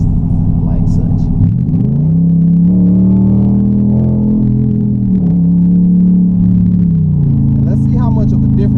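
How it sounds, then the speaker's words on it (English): A 2016 Dodge Challenger ScatPack with exhaust cutouts and active exhaust wide open revs hard, the deep engine note climbing, holding high, then dropping back to a rumbling idle, loud and close. "if I were to go into sport or track mode right now and do that with the active exhaust, with it wide open"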